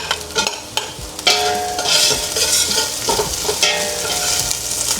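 Garlic sizzles in hot oil in a pan for chicken adobo while a utensil stirs and scrapes it, with clear clinks at the start and a steady frying hiss beneath.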